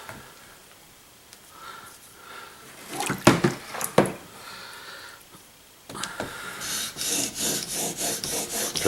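Chisel blade rubbed on a 3000 grit sharpening stone: quiet scraping at first, a few louder knocks and scrapes midway, then steady rhythmic back-and-forth strokes, close and fairly loud, with no talk.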